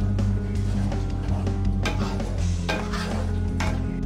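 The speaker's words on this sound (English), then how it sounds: "Again mix it well." Tomato puree and spices for an egg curry get stirred in a pan, a spoon scraping and knocking against the metal in quick repeated strokes over a low sizzle.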